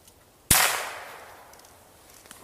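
A single sharp report from a Cricket .22 rifle, close and loud, decaying over about two seconds, followed by the start of another crack at the end.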